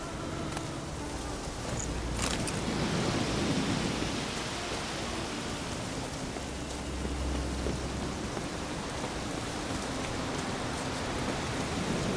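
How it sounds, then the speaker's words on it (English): Steady, heavy rain pours in The Witcher 3, a dense hiss on surfaces broken by low rumbles of thunder, continuous and enveloping throughout with no voices. "Looks like rain."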